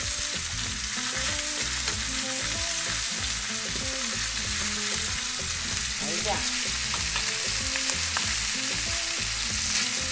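Garlic frying in a pan while chicken is browned for stuffed chicken, giving a loud, constant sizzle with bursts of spatter and occasional stirring, and no voices.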